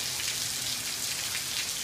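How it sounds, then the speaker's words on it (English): Heavy rain falls on a Pennsylvania road where water has flooded the drainage ditch. It makes a steady, fairly soft hiss of countless drops with no talking. "it is raining in Pennsylvania"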